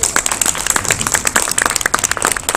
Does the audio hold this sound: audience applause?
yes